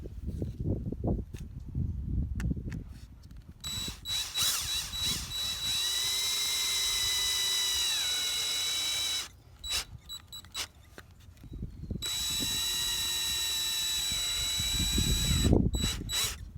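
Cordless power drill driving the supplied screws into hooks on car-part wall art, two long steady whirring runs of a few seconds each that rise in pitch and then stop, loud and close, with clicks and handling noise in between.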